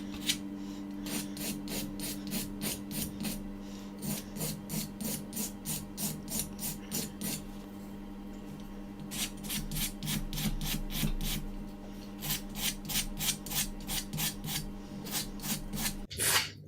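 Wood on a 1/80 scale Amati Endeavour ship model being sanded by hand with an abrasive sheet, steady rhythmic rasping strokes in bursts, close and clear with no talking.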